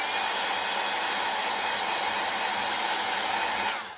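A heat tool blows a steady, loud, close whooshing roar while melting embossing powder on a handmade card, then cuts off abruptly at the end.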